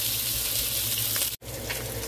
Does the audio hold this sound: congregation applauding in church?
no